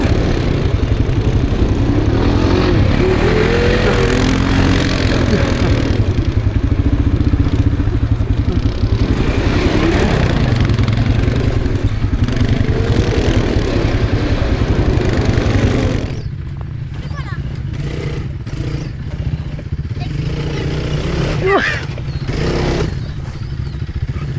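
A quad ATV engine runs steadily at close range, a droning mid-pitched motor that holds fairly even before easing back slightly partway through, with no talk over it.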